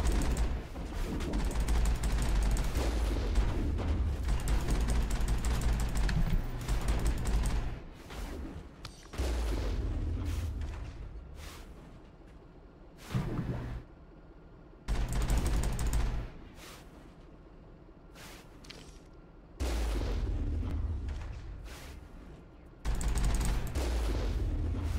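Enemy gunfire in the sci-fi shooter Mass Effect comes in repeated loud bursts of rapid shots, separated by short quiet gaps, with booming impacts among the volleys.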